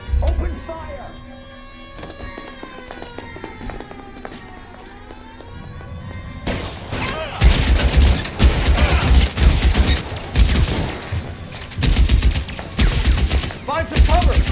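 A shootout in the video game LA Noire: after a calm musical opening, rapid bursts of gunfire erupt and keep crackling loudly, with voices shouting over them.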